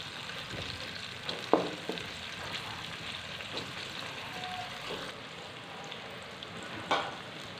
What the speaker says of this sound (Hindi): प्याज को हम अच्छी तरह से ब्राउन करेंगे।